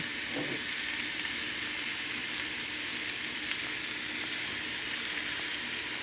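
Thai-style hamburger steak frying in a pan with onions, a steady broadband sizzle that holds evenly throughout, close and continuous with no talking.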